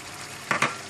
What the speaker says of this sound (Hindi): इसको थोड़ा सा भून लें आप